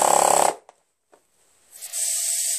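A hammer drill runs briefly, cuts off into near silence with a couple of small knocks, then whirs up again loud and steady.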